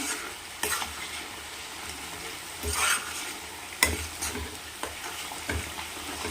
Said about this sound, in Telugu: ఇప్పుడు ఇందులో కొద్దిగా కరివేపాకు వేసుకున్నాం